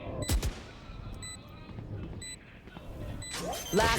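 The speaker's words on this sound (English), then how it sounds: "Sacy, finding Forsaken, gets the headshot, gets the buy as well." Gunfire from the video game Valorant during a pro esports match on the map Split, with a sharp shot near the start and more bursts at the end over a steady background of game sounds and caster commentary.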